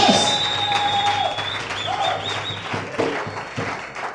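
A church congregation claps and cheers in praise of Jesus, with loud, sustained applause and scattered voices and whoops throughout, filling the room close by.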